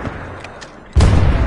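A grenade explodes in a Titanfall 2 match: a sudden, loud, deep boom that keeps rumbling after a short quiet lead-in with faint clicks.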